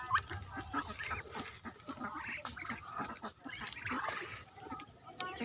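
Ducks on a rural farm quacking and honking in a busy, close flock as they gather nearer, with a person speaking faintly over the calls.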